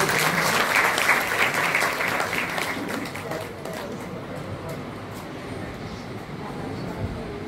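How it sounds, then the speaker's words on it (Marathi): Audience applause welcoming students at a Buddhist organisation's student merit award ceremony in Amravati; loud, dense clapping from a hall crowd that gradually thins and softens after a few seconds, then continues lightly. "सर्व विद्यार्थ्यांना एकदा जोरांनी टाळ्या वाजवून त्यांचं स्वागत करावं असे विनंती"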